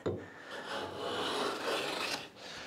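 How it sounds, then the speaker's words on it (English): A hand plane shaves along the back edge of a wooden board in one steady, close rasping stroke that fades at the end, with no talk. "It's just a small bit of planing to do to this back edge."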